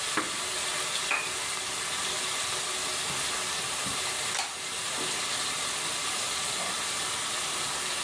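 Garlic and ginger paste sizzles steadily in hot oil for a mutton and chana dal curry, a close, even hiss with faint stirring scrapes throughout.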